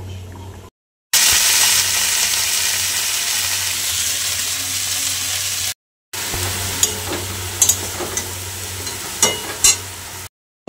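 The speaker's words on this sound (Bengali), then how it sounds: "তারপরে দেখো জিরা দিয়ে দিয়েছি কাঠখোলায় ভাজতে।" Cumin seeds roasting in a dry clay frying pan, a loud dense crackling sizzle in long stretches broken by short gaps, with occasional scraping stirs and light taps.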